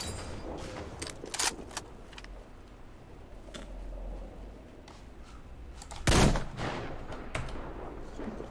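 Gunfire from the video game Metro Exodus: scattered sharp shots over a low background rumble, with one louder, heavier blast near the end.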